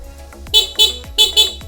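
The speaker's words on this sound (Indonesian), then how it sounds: "Nah, ini untuk klakson." A Honda Scoopy scooter horn beeps four times in quick pairs, loud and close, with short sharp bright tones and brief gaps between them.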